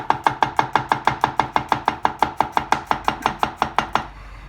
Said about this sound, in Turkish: Sarımsaklarımı da incecik incecik doğruyorum.